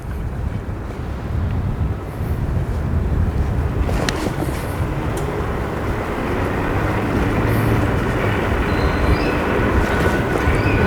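A steady, loud rolling rumble of a Miami Metromover train passing on its track, with broadband noise and some wind buffeting on the microphone, lasting throughout without speech.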